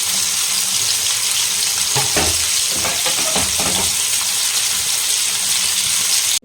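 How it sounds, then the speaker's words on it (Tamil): Sankara fish fries in a pan with a loud, continuous sizzle. A few bursts of stirring or turning come in the middle, and no voices are heard. "சங்கரா மீன் வறுவல்"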